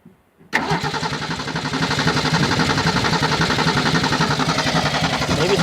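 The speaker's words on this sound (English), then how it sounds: "Finally runs. Well, it ran. It has a little fuel delivery problem" A 1968 Ford Falcon engine, revived after 40 years of sitting and carrying a fuel delivery problem, catches after a short quiet moment and then runs with a loud, steady, rough mid-pitched drone close by.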